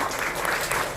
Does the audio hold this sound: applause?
yes